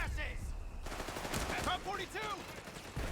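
Machine gun suppressing fire in Company of Heroes 3 rattles in quick bursts among scattered gunshots and battle noise, moderately loud, with a brief voice-like sound mixed in.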